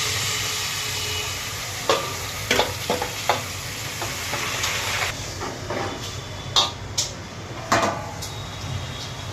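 Onions, green chillies and tomato go into a pan with cumin and asafoetida for tuvar rabdi, frying with a steady loud sizzle while a spoon stirs and clacks against the pan in several sharp knocks.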